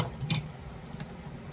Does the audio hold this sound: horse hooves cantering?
no